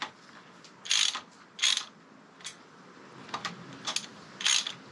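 A ratchet wrench cranks bolts on a BMW R1200GS motorcycle engine. Quick clicking pawl bursts come close and clear, in about seven irregular spurts, with no talk.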